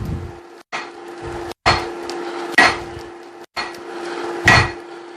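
A hammer strikes hot steel on an anvil while forging a hammer eye drift, with four ringing, metallic blows at a slow, steady pace, loud and close, and a bright tone ringing between hits.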